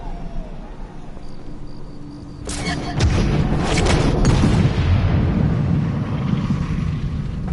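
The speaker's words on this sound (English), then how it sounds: "did you hear the sound of that coming off the club face? It's like a cannon." In a golf video game, a club strikes the ball off the 15th tee of a 590-yard par 5 at the Wetlands course, landing as a sudden booming whack that swells into a loud, sustained rumble.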